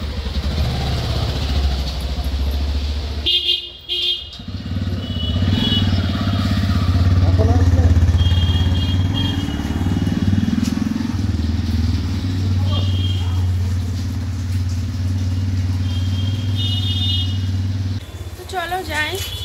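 A motorbike engine rumbles nearby with a steady low drone that swells and eases, while people talk over it and the sound thins out near the end.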